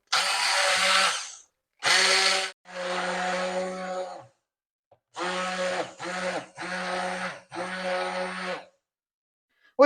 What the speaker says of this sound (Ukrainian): І прямо тут з кастрюльки буду подрібнювати погружним блендером.